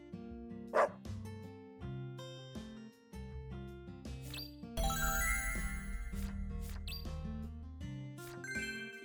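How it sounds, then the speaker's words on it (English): A Dalmatian in the video game Deadly Premonition 2 gives a sharp bark near the start, over eerie game music with tones and chimes that continue throughout. "Let's go on a little stroll with that Dalmatian."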